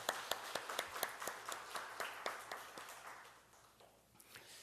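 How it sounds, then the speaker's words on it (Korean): Church congregation clapping in encouragement and thanks during a Korean worship service, sharp individual claps standing out at first, then blending into softer, thinning applause that fades toward the end, fairly quiet overall. "격려하는 박수, 감사한 박수 우리 한번 하겠습니다."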